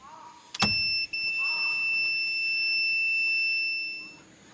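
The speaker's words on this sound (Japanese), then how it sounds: "右にウインカー切ったらブザー鳴りましたよね" A sharp click, then a continuity tester's steady, thin electronic buzz sounds close by for a few seconds before cutting off, while checking a vehicle turn-signal switch.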